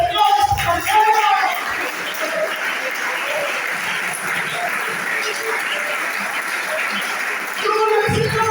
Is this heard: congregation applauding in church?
yes